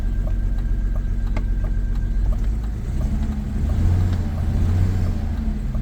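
A 1991 BMW 750iL running in limp mode holds a steady, low idle drone, heard close and continuous, with a slight swell partway through.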